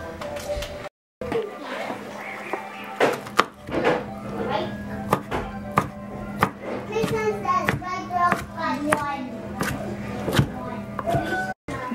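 Cracking and pulling the shell of a cooked lobster that was slit before cooking, heard as a run of close, sharp cracks, snaps and taps with a low steady hum underneath and some voices nearby.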